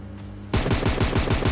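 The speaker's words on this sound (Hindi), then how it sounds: "स्मोक के अंदर मैं थोड़ी सी फायरिंग भी करता हूँ" Rapid automatic gunfire from a battle royale shooter video game, fired into a smoke cloud, rattles loud and close in a steady burst after a brief quieter moment.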